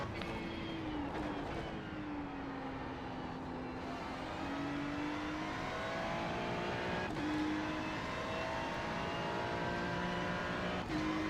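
A Ferrari 296 GT3 race car engine at Interlagos in the iRacing simulator drones steadily, its pitch sweeping up and down with gear changes and sharp shift blips every few seconds, alone without talk.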